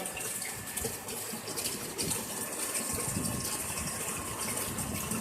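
Water rushing into tanks under a solenoid-valve water level controller, a steady broadband gush with a faint mechanical hum beneath, continuous and fairly close throughout.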